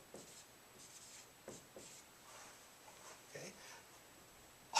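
A pen writing on paper, faint scratchy strokes in short bursts across a quiet room, with a louder tap at the end.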